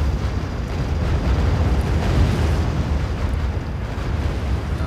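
Artillery barrage pounding a headquarters in the R.U.S.E. strategy game, a continuous low rumbling roar of distant explosions that swells and fades without pause.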